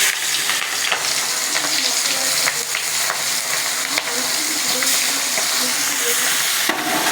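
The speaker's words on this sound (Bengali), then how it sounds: "মাছটা আমরা ভেজে নিচ্ছি" Prawns coated in turmeric and salt frying in hot oil in a wok, a loud, dense, steady sizzle with occasional sharper crackles and stirring knocks.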